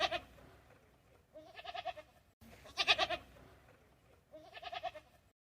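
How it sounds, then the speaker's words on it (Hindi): Four wavering goat bleats in a row, fairly close, with short quiet gaps between them. "बकरी बोली"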